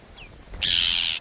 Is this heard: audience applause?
no